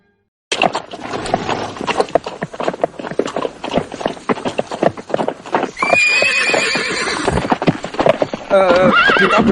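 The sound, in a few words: horse hooves clip-clopping and neighing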